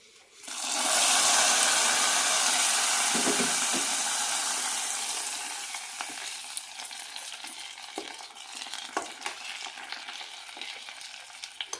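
A tempering of mustard seeds, curry leaves, red chillies and fenugreek poured into ash gourd mango curry gives a loud sudden whoosh of sizzle that fades into a softer crackle with scattered clicks, no talking.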